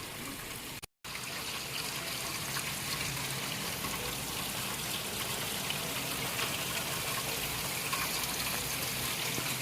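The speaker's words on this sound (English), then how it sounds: "it's raining super hard" Steady rain pours down continuously, a dense hiss of water with no letup, briefly cut off for a moment near the start.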